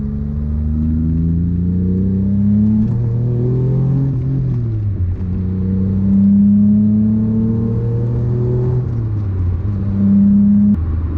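A V6 engine in a Ferrari 288 GTO replica hums from inside the cabin, its pitch climbing through gears and dropping with each shift, steady and fairly loud throughout.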